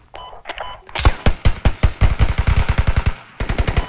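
Rapid automatic gunfire in a video game, a few short shots then long, sustained bursts of evenly spaced rounds, loud and close, briefly pausing before another burst.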